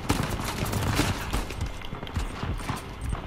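Rapid gunfire from a firefight in Uncharted 4: A Thief's End, with dense overlapping shots and bursts crackling loudly throughout and no pauses.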